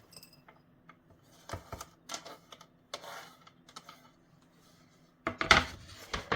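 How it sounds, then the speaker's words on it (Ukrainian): Sliced onion half-rings are dropped into a marinating bowl, giving a few soft clatters and rustles, then a louder clunk of the bowl near the end, all close and quiet with no talk. "І цибульку кладемо до посудини, в якій будемо її маринувати."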